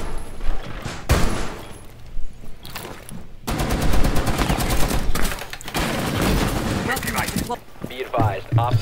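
Rapid automatic gunfire in the Rainbow Six Siege video game rattles loud and close in sustained bursts with brief gaps, amid busy in-game noise and a few faint voices.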